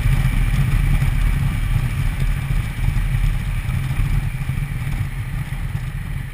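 A motorcycle riding along a potholed road toward a highway, its steady low engine drone running continuously with rough clattering texture from the uneven surface and wind rush, close and fairly loud, with no talking.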